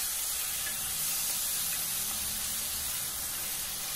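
Two medium-size tomatoes added to softened onions in a hot pan for Kumbakonam kadappa, giving a steady, even sizzle and hiss that carries on without a break and with no voices.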